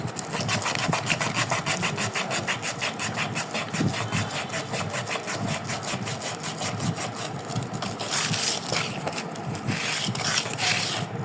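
Car body panel on a 1989 Toyota Crown being sanded by hand with 100-grit paper, a steady rhythmic rasping scrape of rapid back-and-forth strokes, close and continuous with no talking.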